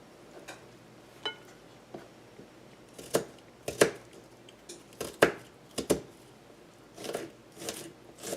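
A knife chops an ingredient finely on a cutting board for stuffed artichokes, giving a run of sharp, irregular taps close by that cluster into quicker bursts toward the end.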